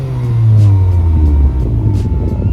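A liveried BMW and an Audi RS3 roll past at a car meet, a loud close engine rumble with a falling low drone as they go by.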